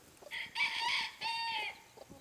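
Farmyard chickens with young chicks nearby: a close, fairly quiet rooster-like crow in two drawn-out phrases, with faint clucks around it and no talking.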